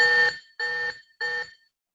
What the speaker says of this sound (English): Where you can set it up to do an alarm sound or send a text with a message.